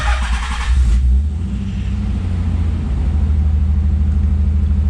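A Nissan 300ZX cranks over briefly and catches, then settles into a steady, close, low idle running a little high, with no voices over it.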